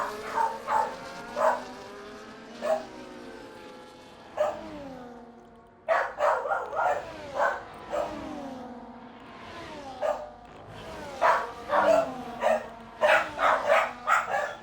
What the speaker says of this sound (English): I apologise for the dogs.